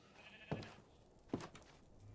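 Sheep bleating in the video game Minecraft: two short, faint bleats about a second apart over a quiet, hissy background.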